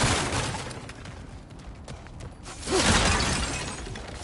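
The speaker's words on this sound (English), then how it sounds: "back to smashing through things for fun and profit" Objects are smashed apart in God of War Ragnarok, with crunching, shattering debris and clattering bursts, then a heavier crash swelling up near the end.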